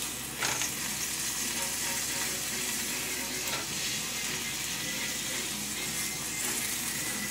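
Turkey burger patties fry in a pan on an electric stove with a steady, even sizzle and crackle throughout, close and continuous, with a faint tick or clink here and there.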